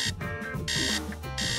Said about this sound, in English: robots have an alarm function set by default